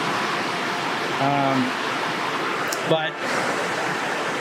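Waterfall heard from a riverbank where the bridge has washed out, a steady broadband rush of falling water filling the scene, with a voice briefly speaking over it.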